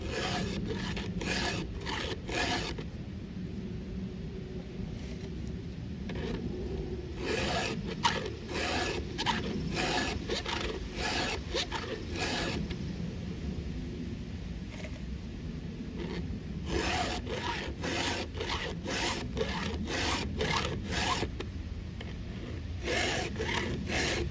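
A hand file sharpens the chain of a Stihl 500i chainsaw, with close, rhythmic rasping strokes in quick runs separated by short pauses.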